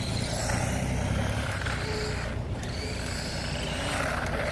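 A small HBX Haiboxing 1:18-scale off-road 4WD RC truck is running. Its electric motor whirs and buzzes steadily and fairly faintly throughout, with a brief dip in the middle.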